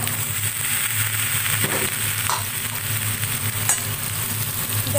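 Papaya and potato pieces fry with black cumin in a wok, giving a steady close sizzle and crackle with occasional stirring scrapes, and no voices.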